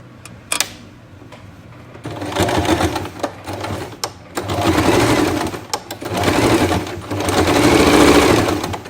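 An electric sewing machine stitches along the waist of a pair of pants in three bursts of steady, rapid whirring, separated by short pauses and clicks, close up.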